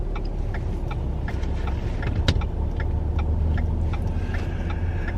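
Car driving, heard from the cabin: a steady low engine and road rumble with faint ticking clicks scattered over it, one sharper click near the middle, no voices.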